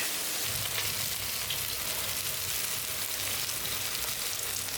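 Masala-coated whole fish shallow-frying in a pan, a steady dense sizzle that holds loud and unbroken throughout, close by, with no voices.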